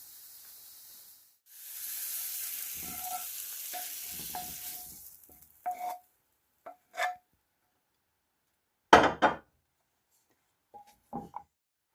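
Mushrooms sizzle and hiss in a hot pan for a few seconds, then the frying fades and gives way to scattered scraping and stirring knocks against the pan.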